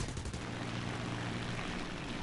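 Small plane's guns firing in the War Thunder video game, a dense burst of rapid shots layered over the drone of the aircraft engine, loud and continuous throughout.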